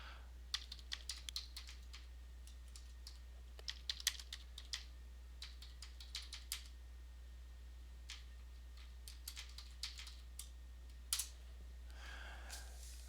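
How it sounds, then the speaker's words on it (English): Typing on a computer keyboard at a desk, with bursts of crisp key clicks in uneven rhythm, fairly close and quiet over a steady low electrical hum, and a soft rustle near the end. "I'm just going to type in download Microsoft"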